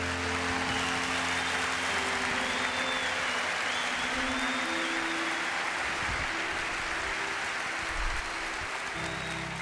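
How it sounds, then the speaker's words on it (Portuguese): A church congregation applauding missionaries, a loud, dense and continuous wash of clapping from a large crowd with faint background tones underneath. "Uma salva de palmas por esses missionários."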